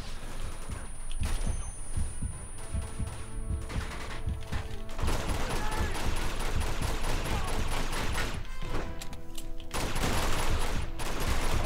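Gunfire in the video game Uncharted 2: Among Thieves: a continuous, loud barrage of rapid shots and crashes over a dense game soundtrack, without letup throughout.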